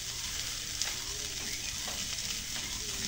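Silver carp frying in a pan on a rainy day, a quiet steady sizzle and crackle with faint spattering pops, heard close and alone.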